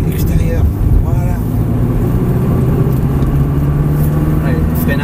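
A Ferrari 360 Modena F1 accelerating on the Mettet circuit, its engine a steady low rumble heard from inside the car while a person talks over it the whole time.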